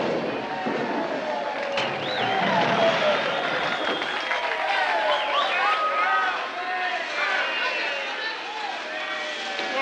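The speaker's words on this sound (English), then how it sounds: "Everybody's applauding." Factory workers at a truck assembly plant applauding and cheering as the last truck rolls off the line, a dense crowd din with voices throughout.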